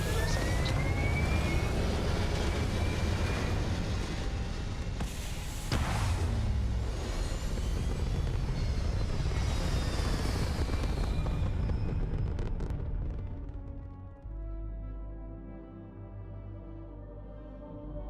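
A spaceship lifts off in the video game Starfield, a loud, sustained rumbling roar of engines with swelling whooshes, easing off near the end into a lower, steadier hum.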